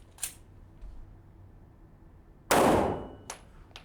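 Two gunshots ring out during a tactical shooting drill: a sharp crack early on, then a louder, longer blast that decays over about a second, with a faint click afterward and no talking.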